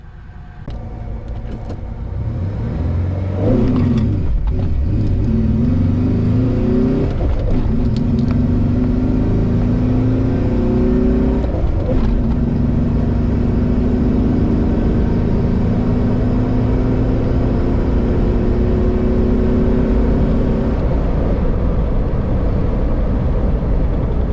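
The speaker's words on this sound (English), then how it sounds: "going 0 to 100 kilometers an hour is a bit too stressful for this Ford" A freshly repaired Ford Explorer engine revs up and pulls away hard, its drone rising through several gear shifts in a long, loud acceleration from 0 to 100 km/h.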